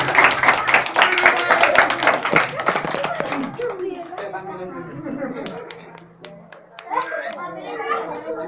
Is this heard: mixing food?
no